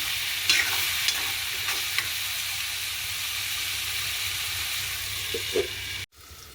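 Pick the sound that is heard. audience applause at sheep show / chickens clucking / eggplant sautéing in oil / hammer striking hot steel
eggplant sautéing in oil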